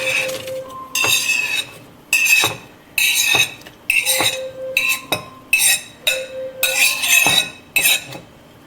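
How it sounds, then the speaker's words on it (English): Vegetables being added to a pot of hot boiling dal for sambar, heard as a series of sharp metallic clinks and scrapes of utensils against the pot, about a dozen strokes in an irregular rhythm, close and fairly loud. "And I'm going to add the vegetables now."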